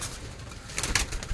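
Punjabi Malwai pigeons give soft, low cooing calls in a few short pulses near the end, close by under a light background hiss, with no voices.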